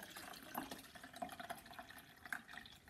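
Cooled mussel cooking water poured through a sieve into a pan in a kitchen, a soft continuous trickle and splash with small drips, faint and without talk.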